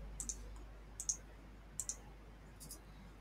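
A computer mouse clicks in quiet, close pairs, three quick double clicks followed by a softer one, against a faint background hum.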